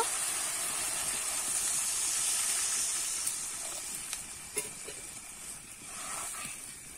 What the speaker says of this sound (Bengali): এবারে কিন্তু আমি জলটা দিয়ে দেব